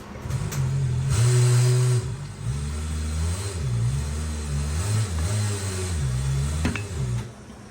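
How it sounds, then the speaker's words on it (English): Tire changer machine with a robo roller and robo arm mounting a tire onto a wheel, a loud droning motor hum with shifting pitch and a clunk near the end, no talk. "Our tire machine is equipped with a robo roller and a robo arm."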